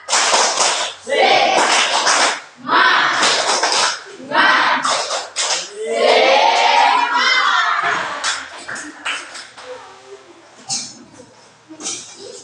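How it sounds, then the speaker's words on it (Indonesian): A classroom group performs a rhythmic tepuk semangat cheer, bursts of clapping arriving in a patterned beat with chanting voices mixed in, loud and close, fading into quieter scattered sounds. "Tepuk semangat."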